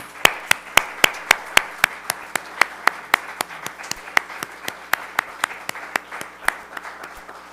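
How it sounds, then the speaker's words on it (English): Sparse, slow clapping at an academic honor society induction ceremony, a few close, sharp claps landing in a regular rhythm of about three per second over a faint room hum. "let's give them all one more round of applause"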